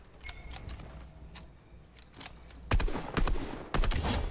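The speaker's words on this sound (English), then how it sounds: "I'm just shooting." Fortnite Season 8 gunfire: quieter scattered shots first, then two loud rapid bursts of automatic fire in the last half, close and sharp, with no talk.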